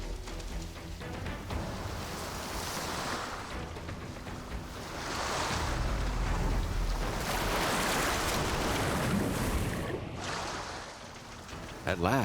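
Sea waves surging and washing in where hatchlings reach the water, a swelling and receding roar with wind noise, and a voice speaking over it.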